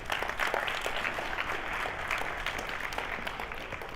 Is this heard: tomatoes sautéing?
no